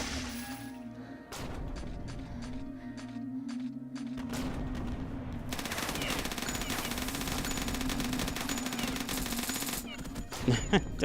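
Submachine gun fire in the Beyond Citadel shooter, rapid bursts running nearly the whole time, with background hum and sharp hits near the end, and a voice talking over it.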